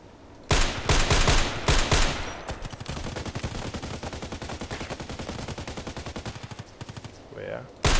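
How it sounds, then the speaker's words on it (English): Sustained automatic gunfire in an online shooter game, dense rapid bursts of shots close by and loud for most of the clip, with a few heavier blasts early on and no talking. "they're shooting here, and also shooting at me"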